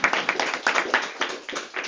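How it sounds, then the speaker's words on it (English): Applause from a conference audience closing a Cold War history panel on alliances and international organizations, a dense run of claps filling the whole stretch with uneven surges, fairly close and steady. "I hope you heard the applause you deserve."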